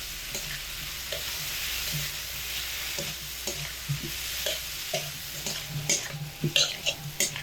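Potatoes frying with chilli powder and spices in a pan, stirred with a spatula; a soft continuous sizzle under repeated scraping strokes that grow louder and quicker toward the end.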